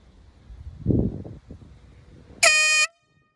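A brand-new air horn fires one loud, sustained blast of a little under half a second, its harsh tone ringing out alone after a quieter stretch of handling noise and a dull thump.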